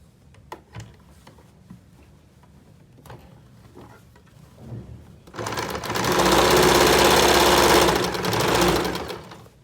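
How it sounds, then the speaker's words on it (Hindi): An electric sewing machine stitches closed a gap in a trouser waistband near the elastic. Light ticking and handling come first, then a loud, steady run of rapid stitching lasts several seconds before it slows and stops. "जो हमारा ये गैप है उसमें इसी तरह से सिलाई लगाकर इस गैप को बंद कर लेंगे।"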